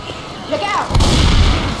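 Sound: gunfire in video game Left 4 Dead 2

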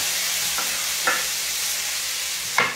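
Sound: food frying in a hot pan

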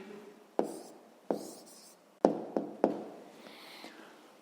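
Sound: writing the answer by hand

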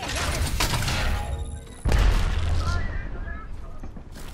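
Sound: grenade explosion in Apex Legends video game

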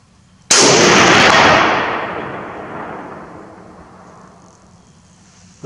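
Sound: gunshot from Finnish M39/43 sniper rifle

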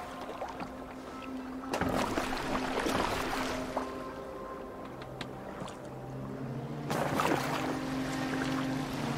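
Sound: boat moving on water in the video game Assassin's Creed Valhalla

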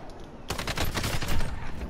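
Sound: SMG gunfire in a video game

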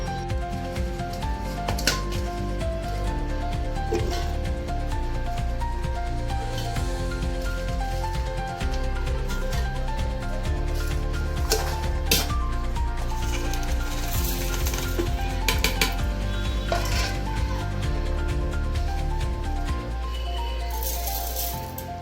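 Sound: mixer grinder grinding ginger, garlic, chili, coriander and cumin

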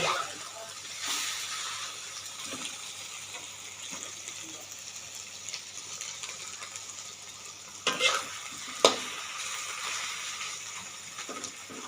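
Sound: stir-frying tomato omelette mixture with minced pork in pan

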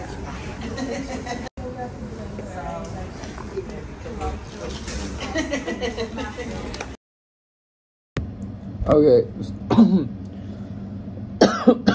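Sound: coughing and throat clearing

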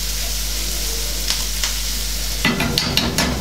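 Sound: fish frying in a pan

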